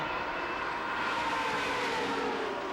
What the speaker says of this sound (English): If you listen to the engine there, you can hear where they're flat out